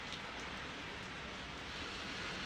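Steady rain falls outdoors, a dense and even hiss that stays faint and constant throughout, with no voices or other distinct sounds.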